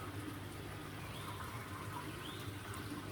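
Water trickling from an automatic vertical autovalve into a home aquarium, a faint, steady gurgling flow that continues unbroken for a few seconds.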